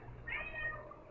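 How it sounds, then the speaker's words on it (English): A house cat meows once from outside a closed door, a faint, muffled, drawn-out cry against a low steady hum, with no one talking. "you can hear my cat outside my door"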